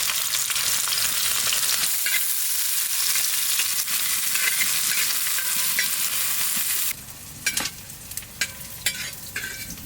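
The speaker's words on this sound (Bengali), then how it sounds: "পেঁয়াজটা ভেজে নিয়েছি" Onions sizzle and fry in hot ghee with dried red chillies and cumin seeds in a home kitchen. A loud, dense crackle runs without a break, then thins and turns uneven near the end as a utensil stirs.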